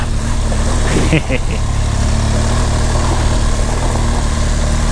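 A BMW GS1200 motorcycle engine drones steadily as the bike climbs a hill, a constant low rumble mixed with wind buffeting, with a brief voice partway through.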